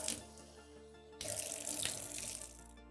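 Lukewarm water runs steadily from a tap into a sink for rinsing a face mask off, a close hissing splash that surges louder partway through, with no talking.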